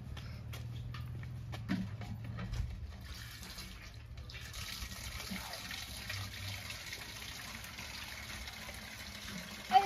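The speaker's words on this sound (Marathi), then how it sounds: "मला भरायचंय पाणी पहिले." Water runs into a container at a village water tap, a steady splashing flow with some clatter early on and a louder knock at the very end.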